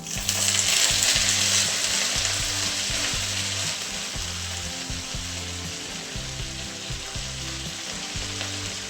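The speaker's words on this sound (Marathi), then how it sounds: "आता कमी गॅसवरती आपल्याला भाजी छान परतून घ्यायची" Fenugreek greens with green chillies and garlic sauté over a low flame, giving a continuous close sizzle broken by regular scraping stirs in the pan, with no talking.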